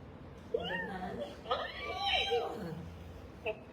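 A child imitates a cat, giving a couple of drawn-out meows with rising and falling pitch, close to the microphone, followed by a short vocal sound.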